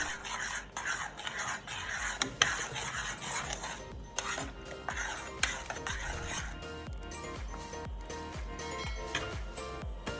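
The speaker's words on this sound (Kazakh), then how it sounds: "Енді қайтадан отқа қойып, уксус құйып араластырамыз." A spoon stirs zucchini caviar with vinegar in a pot, scraping and knocking against the metal in a steady rhythm of repeated strokes, close and fairly quiet, with no voices.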